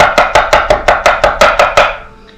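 A knife chops sausage on a cutting board in about ten crisp, evenly paced strikes, loud and close, then stops and leaves a quiet tail.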